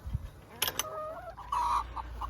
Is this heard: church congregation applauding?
no